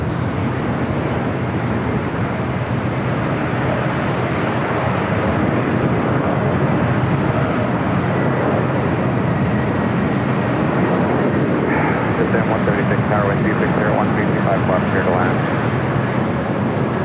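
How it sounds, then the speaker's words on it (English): An Air New Zealand All Blacks Boeing 777 arrives on runway 25 left at LAX, a sustained broad jet roar filling the air under ongoing talk. "we got the All Blacks 777 arriving on the south side on 25 left"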